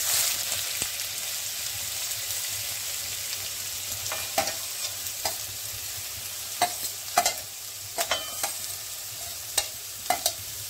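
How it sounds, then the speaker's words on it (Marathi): Chopped onion tipped into hot oil in a pan for a shrimp masala, sizzling steadily up close, with sharp scraping stirs and clatters coming more often toward the end. "तेल गरम झालं की आता हा कांदा घालायचा।"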